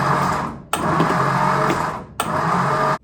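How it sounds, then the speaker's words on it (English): A 1955 Ford F100 engine with a rebuilt starter cranks over in two long, loud, steady bursts, each grinding and whirring for over a second, separated by brief pauses, with no voices. "Well, she cranks over okay."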